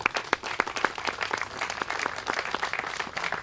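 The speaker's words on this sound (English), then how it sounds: "and give them a round of applause." Applause from the crowd at a groundbreaking ceremony for a community fitness center, a steady patter of individual claps of moderate loudness carrying on throughout without any voices.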